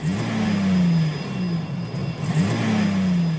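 A car engine revs hard in two surges, the pitch climbing then sagging each time, loud and close with a steady whirring underneath.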